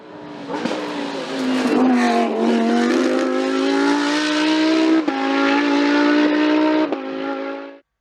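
A Lamborghini Huracan Super Trofeo race car climbs a hill at a 2022 hill-climb event. Its loud, close engine wails in one sustained run of acceleration with rising pitch and brief shifts, then cuts off abruptly.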